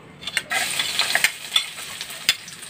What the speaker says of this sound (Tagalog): Sayin nyo lang to hanggang mamula ng konti para masarap-sarap yung kanyang lasa